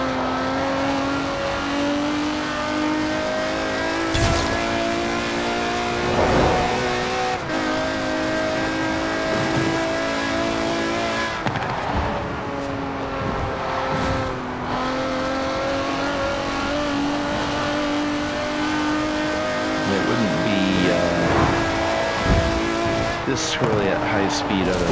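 A Mercedes CLK GTR's engine revs and drones steadily in Forza Horizon 4, with tire squeal and shifting pitch throughout, while someone talks over it.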